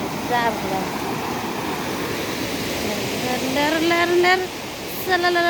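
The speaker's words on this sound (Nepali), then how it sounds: "बाढी कत्रो आला हेर्नु त" Flood water rushes down a swollen river in Kathmandu after heavy rain, a steady loud roar throughout, while people talk over it in the foreground.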